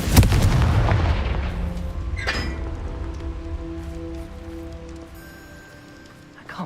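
A Confringo fire spell explodes in Hogwarts Legacy with a loud, sharp blast at the start, then a long rumbling, crackling decay that fades slowly.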